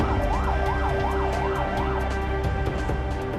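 An ambulance siren wails steadily, its pitch sweeping up and down in a repeating cycle, loud and close, with vehicle and traffic rumble underneath.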